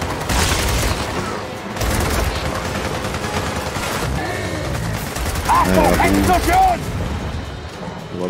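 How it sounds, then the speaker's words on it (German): Booming blasts and rattling gunfire fill a Gears of War 4 firefight, dense and continuous for several seconds with heavier bursts near the start and end. "Explosion!"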